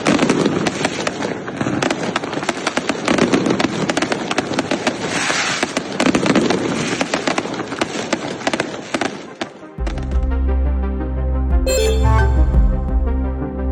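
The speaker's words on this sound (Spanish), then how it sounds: "publicaron videos de la quema de fuegos artificiales" A celebratory fireworks display in El Salvador bursts in a dense, continuous crackling barrage for about ten seconds, loud and near, before giving way to a different, more tonal sound.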